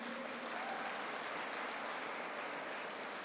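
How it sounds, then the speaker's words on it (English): An audience at an Indian Institute of Architects national keynote event applauds steadily, a dense wash of clapping that holds at even loudness throughout without a break. "I request them to give him another round of applause"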